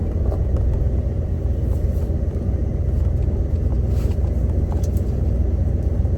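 An old camper truck drives down the road, heard from inside as a loud, continuous low engine rumble and road drone with faint rattles over the top.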